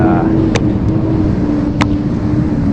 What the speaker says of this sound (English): as a dump truck scoots by